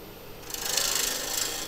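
A lathe gouge with a swept-back grind takes a pull cut on a spinning wood blank, a short soft rasping hiss that swells for about a second and then fades.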